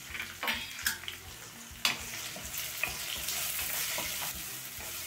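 A handful of peanuts and two cut green chillies fry in oil over a medium flame for a Maharashtrian corn-flour snack. They make a continuous close sizzle, broken by a few clinks and scrapes of a utensil against the pan.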